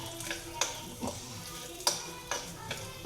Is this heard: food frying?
yes